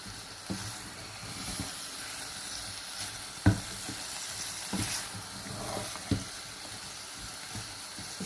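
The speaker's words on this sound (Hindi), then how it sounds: "इसको हमने 2 मिनट तक इस तरह पकाना है हल्की फ्लेम पे" White chickpeas and onion sizzle steadily in a pan over a low flame, a soft continuous frying hiss broken by a few stirring knocks, close and without talk.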